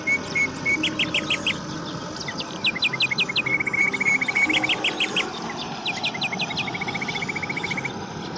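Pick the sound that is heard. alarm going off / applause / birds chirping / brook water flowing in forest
birds chirping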